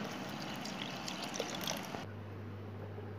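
Water is poured into a pressure cooker holding dal for wedding-style sambar, a faint steady trickle and splash for about two seconds, then cut off abruptly, leaving a low hum.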